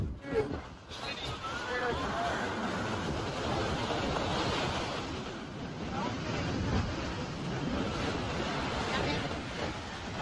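Sea waves roll in at Anjuna Beach in Goa as a steady broad roar of surf with wind buffeting the microphone, and voices talk faintly in the background.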